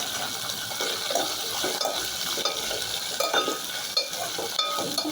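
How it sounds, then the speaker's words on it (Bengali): Ten chopped naga chilies and garlic fry in mustard oil for a chili pickle. A busy, bright sizzle plays close up, with the scrape and clatter of stirring running through it. There is no talking. "ভালো করে ভেজে নিচ্ছি যাতে কাঁচা ফ্লেভারটা চলে যায়"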